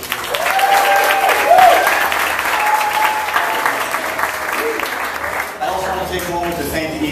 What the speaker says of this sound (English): So one more round of applause for you.